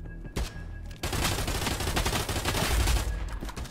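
Rapid bursts of shotgun gunfire in a VR shooter game, loud and dense, firing continuously for several seconds after a brief opening shot.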